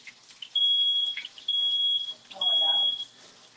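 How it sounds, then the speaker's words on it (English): Home kitchen smoke alarm going off during cooking, three loud high-pitched beeps in a steady pattern, with faint background voices and movement between them. "That's our fire alarm."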